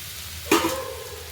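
Mushrooms dropped into a hot pan for a mushroom gojju, a sudden close sizzle that flares up and then settles into a softer, steady frying hiss.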